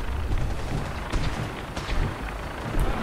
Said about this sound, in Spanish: Vamos a ver desde abajo la explosión